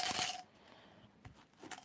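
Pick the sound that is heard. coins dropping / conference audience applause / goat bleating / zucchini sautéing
coins dropping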